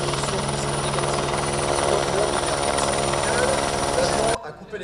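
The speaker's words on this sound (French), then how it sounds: "le Fennec tient sa place, comme vous le pouvez, il n'est pas très haut, il va très lentement" A Fennec military helicopter hovers low and slow at an air base airshow, its rotor and turbine making a loud, steady drone with rhythmic blade beating, and a commentator talks over it before the sound cuts out.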